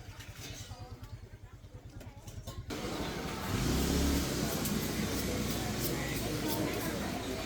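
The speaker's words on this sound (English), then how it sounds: "Wow, a motorbike used for making a living, loaded with vegetables and goods." A motorbike loaded with vegetables and goods passes through a busy Vietnamese night market, its engine rising from a low idle rumble into a loud, steady roar close by, with voices under the noise.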